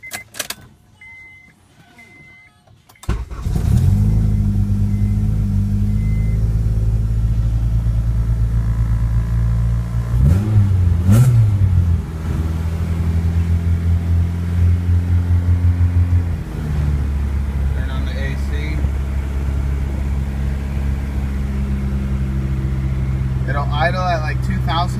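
Acura Integra with a K20 engine sitting quiet, then cranking and catching at about three seconds, settling into a fast, loud steady idle with a brief blip midway; someone talks over it.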